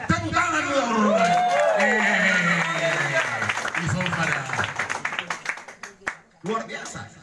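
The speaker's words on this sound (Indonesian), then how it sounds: "Tepuk tangan lu orang." A preacher speaks loudly at a church revival service, then a group breaks into clapping and whoops, applause rising under continued chatter before tapering off near the end.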